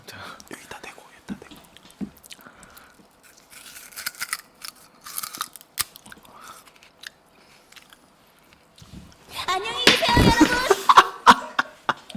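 Someone bites and chews raw sugarcane up close, with sharp crunches and fibrous snaps scattered between quiet whispered talk, building into a dense, loud stretch of crunching near the end.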